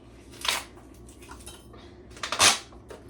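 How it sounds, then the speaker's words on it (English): Chicken salad spooned into a bowl, two distinct clattering scrapes of utensil against dish close up, with soft squishy handling sounds between them and no talking. "I'm about to just put all of them into like one bowl."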